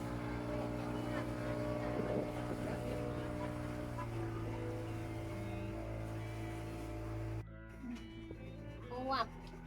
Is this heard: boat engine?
yes